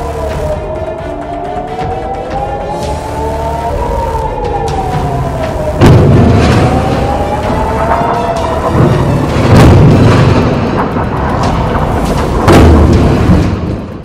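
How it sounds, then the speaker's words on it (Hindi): Air raid sirens wail in overlapping rising and falling tones during an Iranian ballistic missile attack on Israel, joined by heavy booms of explosions from about six seconds on, loud and echoing across the sky, with no talk. "1-2 मिसाइल नहीं बल्कि 180 बैलिस्टिक मिसाइल्स को छोड़ा जाता है इजराइल देश के ऊपर"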